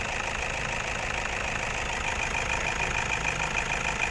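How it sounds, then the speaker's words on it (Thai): An eight-year-old Toyota Vigo Champ 2500 pickup engine, 120 hp, idles in a steady, even rumble with a faint mechanical ticking, close by and unchanging throughout. "ฟังเสียงเครื่องยนต์นะครับรถ 8 ปีนะครับ"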